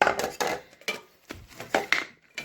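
Thick, sturdy mixer grinder jars and parts clatter and knock as they are picked up and set down, giving a quick series of close, hard clunks with short pauses between.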